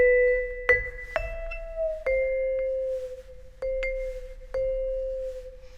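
Vibraphone notes on B natural imitating a mourning dove's call, struck in a slow, spaced pattern of five or six clear ringing tones with long sustain, close and alone.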